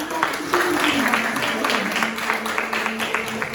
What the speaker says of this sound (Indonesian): Mari kita berikan tepuk tangan untuk Tuhan kita.